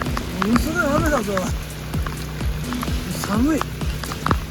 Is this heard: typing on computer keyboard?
no